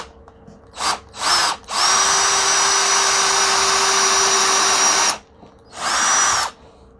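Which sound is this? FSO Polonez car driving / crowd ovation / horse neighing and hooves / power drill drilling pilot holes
power drill drilling pilot holes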